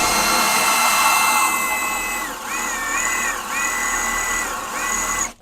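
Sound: cordless drill drilling metal

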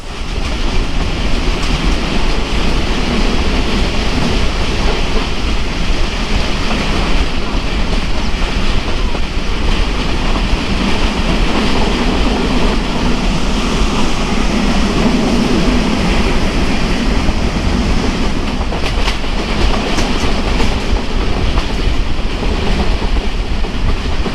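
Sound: express train running on tracks

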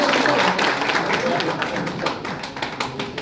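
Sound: audience clapping on request

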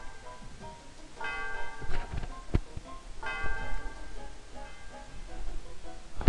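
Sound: bell ringing in a video game

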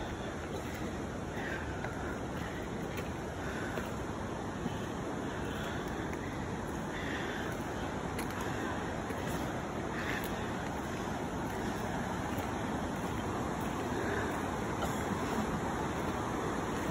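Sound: waterfall rushing water

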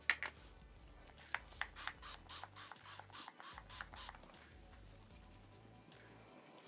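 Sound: makeup fixing spray

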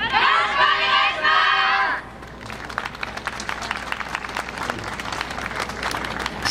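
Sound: crowd applause and clapping at yosakoi dance performance

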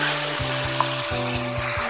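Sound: marinated pork frying in cooking oil

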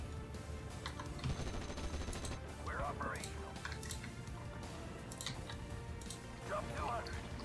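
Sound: machine gun fire in Steel Division: Normandy '44 video game

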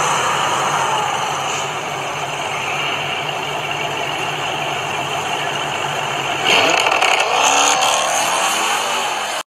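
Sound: pink Dodge SRT8 with Procharger supercharger driving

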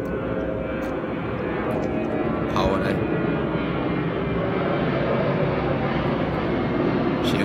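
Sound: airplane flying overhead

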